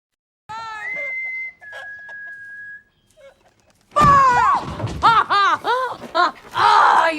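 One person whistles a few short notes in a barn, and a second person answers with a longer, louder run of rising and falling whistles.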